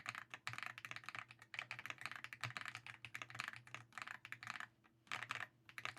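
Fast, steady typing on a plastic-cased mechanical keyboard fitted with Leobog Star Vector switches, giving crisp, close clacks in quick bursts with one brief pause, heard alone and fairly quiet.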